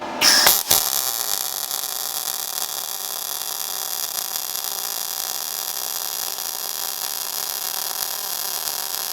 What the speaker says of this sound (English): Since I've got a lot of real estate to weld here, I'm gonna just go again and maybe just travel a little bit faster.